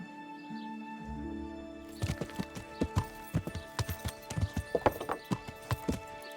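Horse hooves clip-clop steadily in the medieval game Kingdom Come Deliverance, a close, rhythmic series of hollow knocks over a faint sustained musical background.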